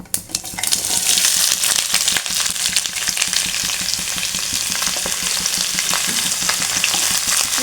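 Chopped onions dropped into hot oil with popped mustard seeds for masala dosa masala, giving a loud, steady frying sizzle with crackles and occasional stirring scrapes throughout.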